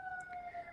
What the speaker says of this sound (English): Sorry, we got a bunch of sirens in the background here today.